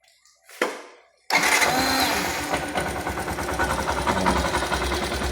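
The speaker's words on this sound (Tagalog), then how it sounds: "I-start natin yung makina." A motorcycle engine with a leaking, overflowing carburetor cranks over after a brief click, catches abruptly and settles into a loud, steady idle with an even pulsing beat, close by and without talk.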